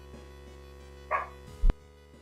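A dog gives a single short bark partway through, moderately loud over a steady low electronic hum, followed by a dull thump.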